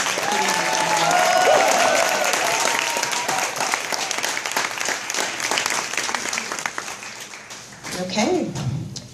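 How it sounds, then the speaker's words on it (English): An audience at a Martin Luther King celebration gives a sustained round of applause, loud and full at first and gradually thinning, with voices and a few cheers mixed in toward the end. "Let's just give them one more round of applause."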